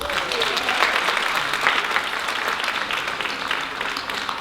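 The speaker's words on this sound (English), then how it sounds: "Please give her a clap." Steady applause from an audience at a holiday Christmas event, honoring a dessert and fruit-table company from Atlanta; dense, continuous clapping fills the whole stretch with faint voices underneath.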